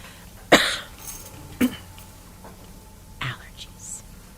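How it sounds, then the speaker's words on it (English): A cough in a stage play, a sharp short burst near the start followed by smaller throat sounds and a later brief cough amid quiet whispering. "Is that a cough?"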